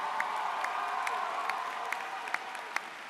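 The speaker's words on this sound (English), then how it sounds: "So definitely feel free to applaud at any time you feel like" Graduation commencement crowd applauding in a large hall, a steady wash of clapping with scattered sharper claps throughout, moderately loud and continuous.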